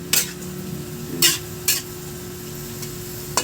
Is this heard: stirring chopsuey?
yes